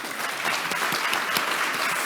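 An audience at an education prize semifinalist announcement gives a brief, steady round of applause, with dense clapping at an even, moderate level throughout.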